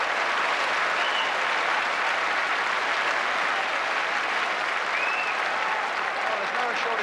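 A crowd of about 8,000 at a Fulham versus Grimsby football match applauds a goalkeeper's save, with steady, dense clapping and cheering spread across the terraces, continuous and loud throughout.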